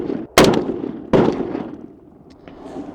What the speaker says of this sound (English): let me shoot these 180s Federal at the right-hand target.